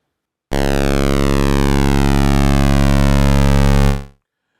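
A loud, steady tone from the Cherry Audio Sines synthesizer plugin, rich in harmonics, holds for about three and a half seconds, its tone slowly shifting under a slow LFO, then cuts off.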